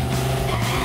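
Drag race cars roar past, a loud, close, sustained engine howl with a steady droning pitch in one brief burst.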